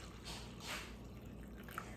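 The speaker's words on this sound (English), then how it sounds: "I'm gonna get my leftover water and I'm gonna do another 8 ounces" Water is poured into a pot of Mexican rice as it cooks, a short, quiet liquid splash and drip lasting about two seconds, with no talking.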